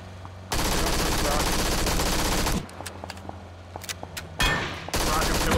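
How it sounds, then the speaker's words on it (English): Gunfire in PUBG, with a loud sustained burst of rapid shots followed by scattered individual cracks and another heavy burst, mixed with faint game sounds. "They have a sniper up in the hill shooting at me."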